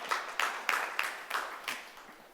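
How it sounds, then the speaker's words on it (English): A few scattered claps from a conference audience at a London industry event, about six sharp claps spread over two seconds, faint and somewhat distant, with no talking. "So it's a round of applause for these two guys."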